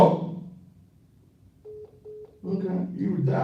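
Telephone keypad dialing tones, two short beeps in quick succession heard faintly after a pause, preceded and followed by someone talking.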